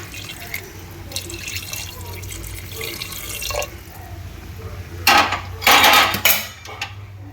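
Hot water pours into a pot of mutton kharda in two short bursts near the end, after a stretch of quiet kitchen clatter and dripping.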